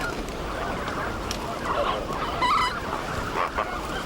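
Flamingos penned in a corral in the Ebro Delta give honking, goose-like calls over a steady outdoor rumble, several brief cries scattered across a few seconds.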